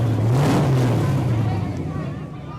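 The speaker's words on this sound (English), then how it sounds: "That's the sound of an 850 horsepower engine." An 850-horsepower race car engine roars loudly and close, its deep drone rising briefly in pitch before settling into a steady rumble.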